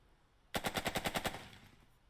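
A burst of machine-gun fire in the war game Burden of Command, about eight rapid evenly spaced shots in just under a second, loud and close, trailing off into a short echo.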